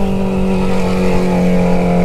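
Honda Hornet motorcycle with an open exhaust pipe, engine held at a loud, steady drone that barely changes for about two seconds, with no voices.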